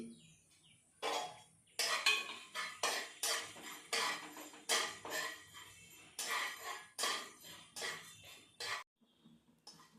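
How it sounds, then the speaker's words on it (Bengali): Whole garam masala, dry red chillies, coriander and cumin seeds dry-roasting in a wok, heard as a run of sharp scraping and clattering strokes of a utensil against the metal pan, close and fairly loud, with short pauses between bursts. "শুকনো কড়ায় আমি ভেজে নিচ্ছি"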